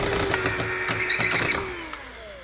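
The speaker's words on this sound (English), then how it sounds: "We pre-drilled our holes and we're now going to put the screws in place." A drill drives drywall screws into pre-drilled holes in a DIY wooden workbench, its motor whining in short pulses that then wind down, fairly close and loud.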